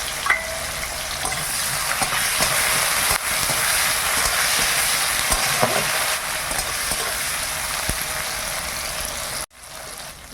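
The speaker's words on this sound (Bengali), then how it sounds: "এবার ওই তেলে টমেটো আর পেঁয়াজটা তুলে দেই।" Tomato and onion fry in hot oil in a pan, a loud, close, steady sizzle with stirring scrapes that breaks off briefly near the end, with no talking.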